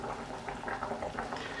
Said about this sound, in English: It's been boiling away.